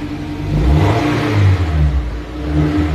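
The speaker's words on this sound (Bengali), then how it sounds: "একটু নয়েজটা দেখেন, মানে আওয়াজটা দেখেন, একটু অ্যাক্সেলারেটর পারা দেন, বুম বুম শব্দ দেখছেন" A Mercedes engine revs hard as the accelerator is pressed, a loud, close, deep roar that rises and holds in repeated surges, with no talking.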